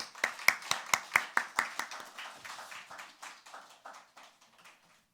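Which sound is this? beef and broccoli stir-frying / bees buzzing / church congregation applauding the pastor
church congregation applauding the pastor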